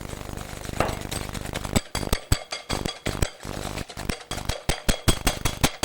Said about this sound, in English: And now I'm going to whisk that together.